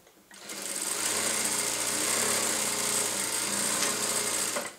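A Jack JK 9100 industrial lockstitch sewing machine stitches cotton fabric, starting after a short pause and running as a loud, steady, fast mechanical whir for about four seconds before slowing at the end.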